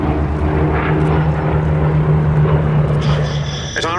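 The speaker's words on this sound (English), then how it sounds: "they are represented by the Mark 1A that leads this 4-ship of British and American fighters of that period" A four-ship of Second World War British and American fighters, led by a Supermarine Spitfire Mk IA, passes over Duxford with a sustained, fairly loud piston-engine drone that holds steady, ending with a brief higher whine.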